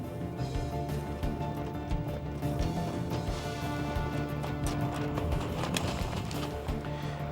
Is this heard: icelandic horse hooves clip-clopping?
yes